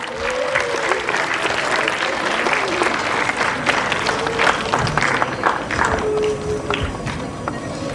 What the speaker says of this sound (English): Let us welcome her with a big round of applause.